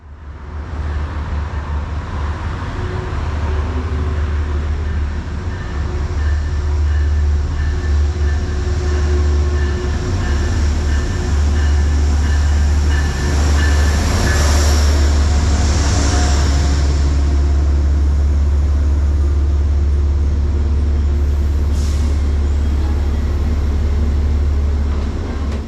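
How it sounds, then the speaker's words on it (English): A Metro-North train led by Conrail heritage locomotive 201 rolls into the Merritt 7 station in Norwalk with a loud, steady rumble and deep engine drone that lasts throughout, and a brief higher hiss or squeal partway through. "Here it is arriving at the updated Merritt 7 train station."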